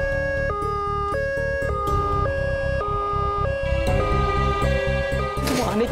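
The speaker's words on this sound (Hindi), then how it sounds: "अरे एम्बुलेंस की आवाज आ रही है" A loud, close ambulance siren alternates between two pitches in a steady repeating pattern, with a rising burst of noise at the very end.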